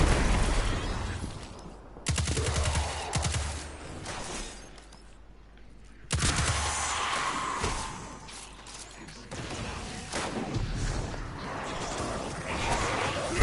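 Grenade blasts and bursts of gunfire in the Destiny 2 video game, in a lost sector at Terminus East; loud dense crashes and rattling volleys come in waves, with short quieter gaps between them.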